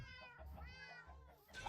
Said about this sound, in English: That's a whole lot of cats. Why is there a cat army here?